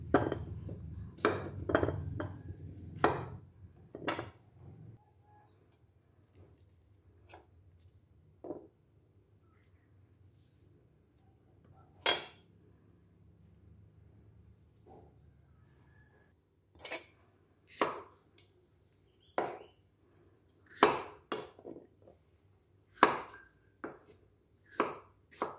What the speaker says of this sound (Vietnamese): Bây giờ cứ cắt khoanh vậy cơ.